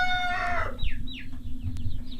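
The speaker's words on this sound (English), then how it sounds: "Very loud rooster nearby." A rooster on a backyard chicken farm crows loudly and close by, its long drawn-out call ending before a few shorter clucks and squawks from nearby fowl follow.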